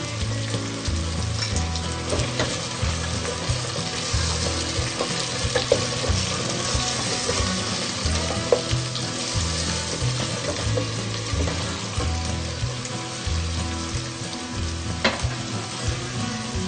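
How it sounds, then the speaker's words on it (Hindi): Chicken frying in a pan for a Pakistani chicken korma with garlic and ginger paste stirred in, a steady close sizzle with scraping stir noises throughout, and no talking. "अब हम इसको 5 से 6 मिनट के लिए फ्राई करेंगे। चिकन हमारा ब्राउन हो चुका है, अब हम इसमें लहसुन डालेंगे"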